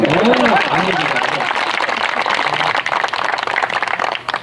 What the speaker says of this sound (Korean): 박수 한번 보내자